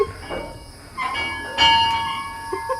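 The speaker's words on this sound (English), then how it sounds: "I want to get a video of me ringing the bell" A metallic bell rings with bright, lingering tones, struck a few times in a row, its resonance hanging over a faint background hiss.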